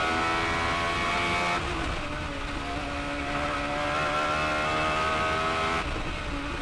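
A Radical SR8 race car accelerating hard on the Nürburgring, its high-revving engine screaming loud and close from the cockpit, with a quick upshift early on and another near the end as the pitch climbs again.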